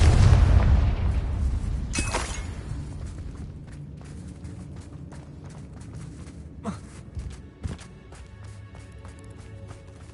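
A Confringo fire spell explodes in the Hogwarts Legacy video game: a heavy low boom at the start decays into rumble, followed by a sharp burst about two seconds in and a few smaller pops over a low background.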